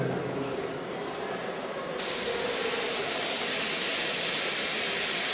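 An airbrush sprays paint thinned with a few drops of thinner, giving a steady, loud hiss of air and atomised paint that brightens and intensifies midway, then continues evenly.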